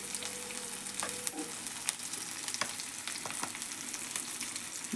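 Green gram gravy ingredients sizzle steadily in hot oil in a pan, a continuous close frying hiss with occasional light pops and clicks, no voices.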